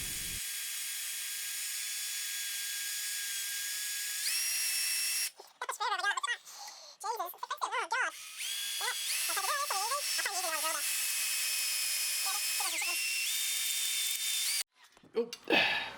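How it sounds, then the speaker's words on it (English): A power drill whines steadily, drilling holes in a part in bursts, with people talking close by between and over the drilling. "while I drill out the holes"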